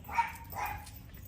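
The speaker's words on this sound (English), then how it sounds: "Sorry about my dogs barking in the background." Dogs give a couple of short, muffled barks a moment apart, faint and distant in the background of an indoor potting session with succulent plants.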